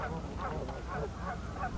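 Geese honking at a meltwater pond near Bazzano, a dense chorus of overlapping calls from a flock at moderate distance, continuous and fairly faint.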